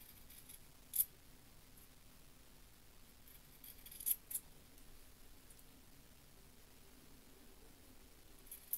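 Fabric scissors trimming the seam allowance around a blouse collar, three quiet, isolated snips spaced a few seconds apart against a faint room hiss.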